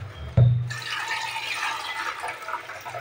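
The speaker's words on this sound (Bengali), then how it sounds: "তো চলো ডাল ধুয়ে নিই" Running water splashes steadily over red lentils (masoor dal) being rinsed in a kitchen, with a brief thud at the start before a continuous broad rush of flowing water fills the rest of the clip.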